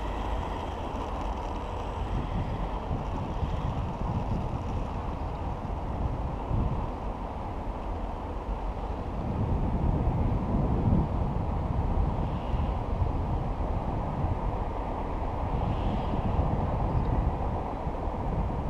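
An E-flite F-15 radio-controlled model jet fitted with a whistle starts its takeoff run, heard as a continuous broad rushing whine that swells louder partway through, with rumbling wind buffeting the microphone.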